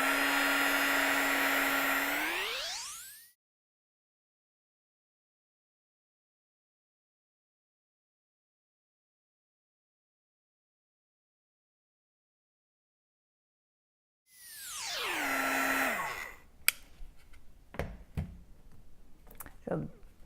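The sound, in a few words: Marvy Uchida heat gun running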